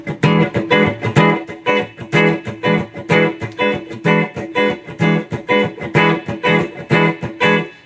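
Overdriven guitar is strummed in a steady repeating rhythm, every third stroke accented, loud and close with no talking.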